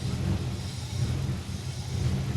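A BMW E30 with a swapped S50B30 straight-six idles steadily after starting, with an even low rumble and no misfire. The car runs without oxygen sensors and has an exhaust leak. The sound is alone, with no talk.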